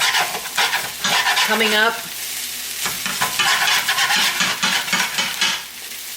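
Chicken and veggie fried rice being scraped and stir-fried in a hot pan, with loud sizzling and repeated rhythmic scraping strokes of a utensil, while a voice speaks briefly.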